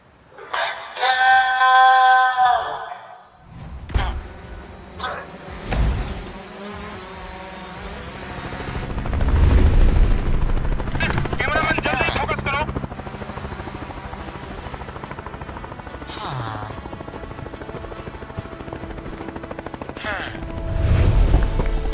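A buzzing, whirring attack drone hums steadily with Minecraft effects, bursts and impacts, a busy layered mix that swells louder toward the end.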